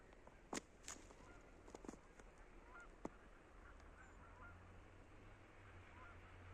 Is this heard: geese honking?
yes